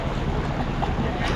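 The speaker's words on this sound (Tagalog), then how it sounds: "Bangka na yung mga bumabiyahe ngayon," A boat travels across open water, carrying a steady broadband rush of hull, water and wind noise that buffets the microphone throughout, with no voices heard.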